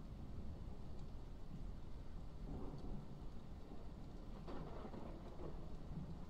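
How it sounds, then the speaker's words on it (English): A thunderstorm with steady rain hissing down and low thunder rumbling beneath it, all faint and distant, with no voices. "Oh, I hate bad storms like this."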